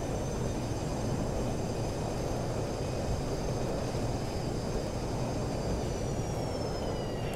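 An airliner in the X-Plane 11 flight simulator rolls out after landing with thrust reversers deployed, a loud continuous engine roar and rumble with a faint high whine, steady throughout with no talking.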